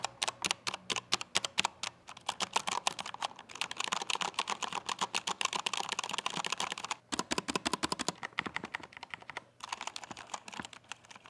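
Fast, steady typing on a Royal Kludge RK918 mechanical keyboard with brown switches, muted, thocky keystrokes without click, close up, with a couple of brief pauses.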